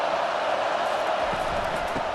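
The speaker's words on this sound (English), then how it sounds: "It is getting loud as this crowd tries to help its defense." Steady, dense stadium crowd roar in the College Football 25 video game, loud and continuous throughout without pauses.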